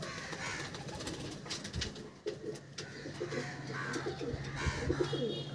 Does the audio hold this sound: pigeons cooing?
yes